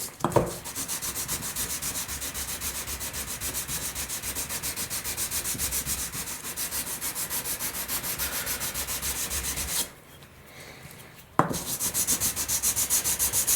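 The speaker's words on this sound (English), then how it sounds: "I'm just going to sand through 800" An RC glider wing joiner sanded by hand against a table edge gives a close, rhythmic rasping of rapid back-and-forth strokes, pausing briefly before resuming.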